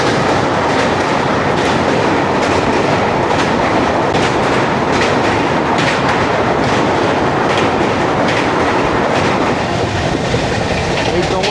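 Ahmedabad–Mumbai Central Double Decker Express running at speed after leaving Vapi, crossing the Daman Ganga river area: a loud, continuous rumble with steady clickety-clack of wheels over rail joints throughout.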